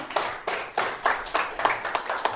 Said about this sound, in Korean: 박수 한번 더 치겠습니다.